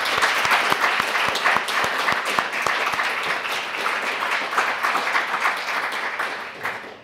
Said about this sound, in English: Please help join me in giving them a round of applause.